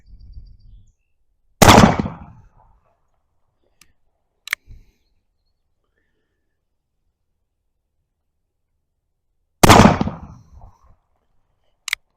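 A stainless steel Ruger Old Army revolver fires two loud, sharp shots several seconds apart outdoors, each with a short decaying tail, and a couple of fainter clicks and pops fall between them.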